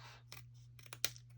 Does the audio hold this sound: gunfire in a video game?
no